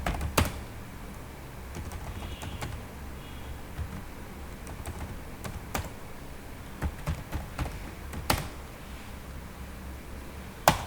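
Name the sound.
typing CSS code on a computer keyboard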